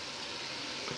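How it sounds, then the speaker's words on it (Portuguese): Chicken pieces fry with onion in a pot for galinhada, a dense, even sizzle close up that runs continuously without stirring through the brief moment. "E nós não ficamos mexendo ele não, nós deixamos ele fritar aí."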